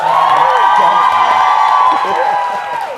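A studio audience at the Thai talk show Katanyu Tonight cheers and applauds loudly to welcome the group JASP.ER: dense, sustained clapping mixed with high excited screams and whoops that fade slightly at the end.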